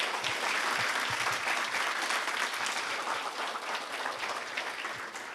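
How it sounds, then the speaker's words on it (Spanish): An audience at a talk claps steadily for Benjamín, an illustrator and animator, in dense, sustained applause that fades only slightly toward the end. "Así que un aplauso para Benjamín."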